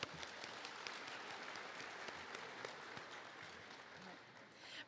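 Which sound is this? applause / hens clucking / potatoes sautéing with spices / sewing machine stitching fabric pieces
applause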